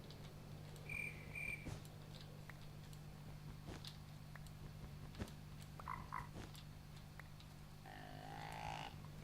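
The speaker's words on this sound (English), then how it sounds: "Burping frog." A frog in Minecraft with the Technic Pack croaking in short, faint burp-like calls, scattered over a quiet game ambience with a low steady hum and occasional clicks.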